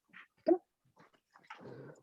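A wolf-like dog whimpers and growls in short, quiet bursts close to the listener, with pauses between the sounds.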